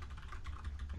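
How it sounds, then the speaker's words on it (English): Rapid typing on a computer keyboard, quiet clustered key clicks in a quick irregular rhythm over a low background hum. "I was just typing to the mod"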